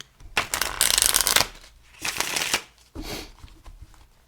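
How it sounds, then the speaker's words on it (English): A Waite-Smith Centennial Edition tarot deck is shuffled by hand in three close, crisp bursts of riffling cards, the first longest, with quiet pauses between. "I'm going to pull up the Waite-Smith Centennial Edition here, give it a little shuffle"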